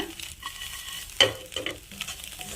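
Fried bread slices with egg and pepper stirred and tossed in a pan, giving a soft sizzle under a few scraping stirs and one sharper clatter of the toss, close up with no voices.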